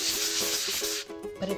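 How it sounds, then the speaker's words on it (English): Folded sandpaper scraping the reflective coating off the back of a mirror, a continuous close, harsh rasp that breaks into shorter rubbing strokes near the end. "just take a piece of the sandpaper, fold it into thirds, and begin to scrape off that reflective image"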